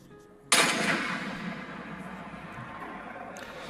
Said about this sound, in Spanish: Vamos a escuchar el típico balazo del Free Fire